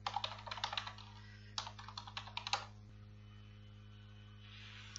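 Fast bursts of typing on a computer keyboard as a username and password are entered, close and clear in two quick runs with a short pause, then a steady electrical hum alone.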